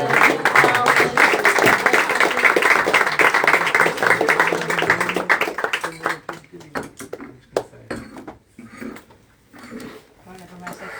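A round of applause at a birthday party, dense clapping mixed with voices for several seconds, then thinning into scattered claps and chatter.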